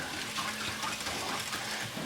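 Chicken base liquid, about four cups of stock, poured from a container into a soup pot for creamy pumpkin soup, giving a steady close splashing gush that runs throughout with no talk.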